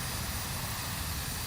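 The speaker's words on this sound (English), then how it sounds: "It gets much louder. There are 4 engines running." All four jet engines of a BAe 146 run at once in X-Plane 11, making a constant, loud roaring drone with no variation and no talk.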